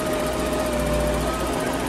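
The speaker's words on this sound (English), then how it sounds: "All right, we got both motors running." Two Mercruiser marine engines running together at warmed-up operating temperature, giving a steady, loud, continuous engine drone with a rough mechanical rattle throughout.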